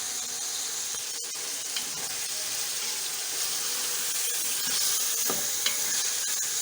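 Masala with green chillies sautéing for a chicken curry in a pan, a steady, dense sizzle running throughout with occasional spoon scrapes, close and fairly loud with no voices.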